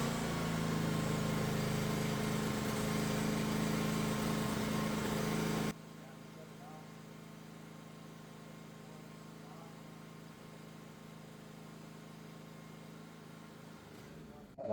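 A Honda EB2800i inverter generator running on propane hums steadily close by, then its engine note drops abruptly to a much quieter low idle drone that continues to the end.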